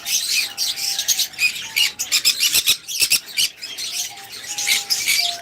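A tame pair of sun conures at a bird farm calls in repeated shrill chirps and squawks, close and lively, in short bursts with brief gaps.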